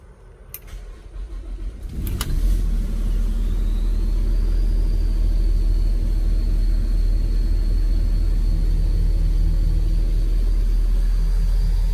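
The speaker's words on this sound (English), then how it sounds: "let's crank the motorhome up" A Country Coach Intrigue motorhome engine cranks with a rough, sputtering churn for about two seconds, then catches and settles into a loud, steady idle rumble with a faint high whine running above it.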